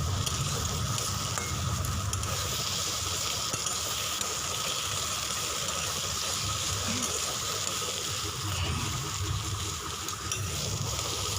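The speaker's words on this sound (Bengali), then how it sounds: "2-3 মিনিট আবারও মিডিয়াম ফ্লেমে নেড়ে নেব।" Cabbage paratha filling with fried dry chillies being stirred in a pan over a medium flame, giving a steady, close, continuous sizzle and crackle with faint scraping throughout.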